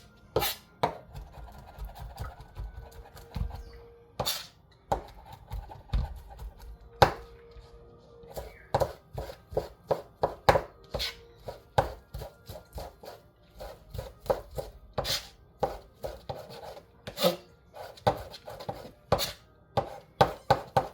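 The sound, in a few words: chopping vegetables finely for kimchi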